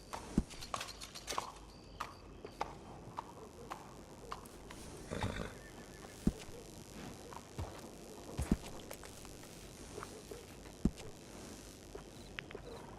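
An old nag of a horse in Red Dead Redemption 2 shuffles about with irregular hoof clops and knocks, and a brief, louder snorting burst in the middle, all fairly close against a low outdoor ambience.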